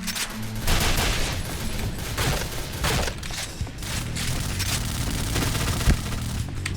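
Rapid bursts of gunfire from a PUBG match crackle throughout, with scattered single shots and volleys at moderate distance over low game ambience.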